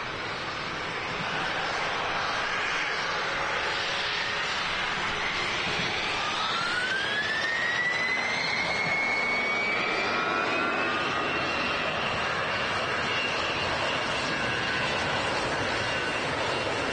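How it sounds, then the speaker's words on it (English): A business jet at Manchester Airport spools up and rolls for departure, a steady roaring engine with a rising whine, fairly distant and building gradually before holding at a broad, even rush. "This should sound good, this biz jet, I think. Just holding on the runway for departure"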